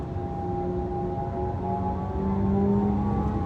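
A Kia EV6 electric car plays its artificial driving sound in dynamic mode, a steady layered synthetic drone of sustained tones that slowly rise and shift in pitch, heard inside the cabin at a constant moderate level.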